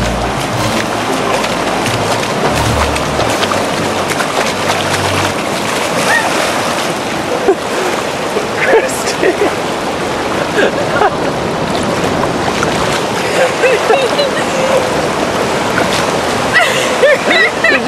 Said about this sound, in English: Hurry before the waves come.